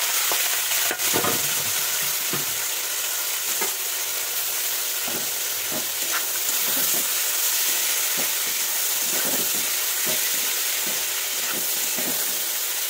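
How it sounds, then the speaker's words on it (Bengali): Vegetables frying in hot oil in a pan, a loud continuous hiss with intermittent scraping and stirring knocks, close up and without voices. "এটা ভালো করে আমি একটুখানি ভাজা করে নিই, ভাজা করে নিয়েছি একদম"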